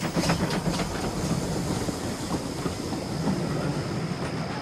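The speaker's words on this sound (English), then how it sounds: "And with that, Stepney puffed away into the night." The steam engine Stepney in the game Sodor Online: a dense, steady rumble of a train running along the line, with faint clicking wheel beats throughout and no voices.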